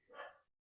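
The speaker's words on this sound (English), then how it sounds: "Pardon my dog's barking." A dog gives a single short bark, faint and somewhat distant, followed by silence.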